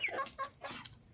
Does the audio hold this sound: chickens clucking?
yes